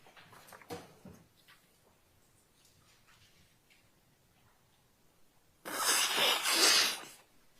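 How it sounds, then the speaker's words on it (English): A loud, harsh burst of coughing in a quiet courtroom during a murder trial, lasting about two seconds near the end after a brief fainter sound early on. "That was the cough."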